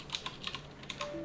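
Soft, quick keystrokes on a computer keyboard while entering a command in a Windows 10 terminal, several irregular clicks close by with no speech.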